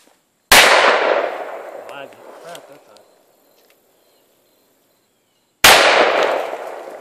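Two loud, sharp gunshots fired at an outdoor target, about five seconds apart, each with a long ringing echo trailing off; faint insect buzz fills the quiet between.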